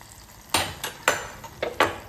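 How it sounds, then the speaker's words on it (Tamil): Several clinking, scraping thuds of ghee-fried cashews, raisins and cardamom dropped into a pot of sugar syrup, spaced irregularly, close by over a low background hiss. "நெய்யில் வறுத்துருக்கேன் பாருங்கள் முந்திரி பருப்பு முந்திரி பழம் ஏலக்காய் இதை போட்டு ஊற்றிடுவோம்"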